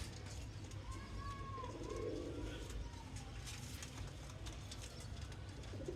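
Dub pigeons coo softly in the background, a low burbling call under a constant ambient hum, faint and somewhat distant.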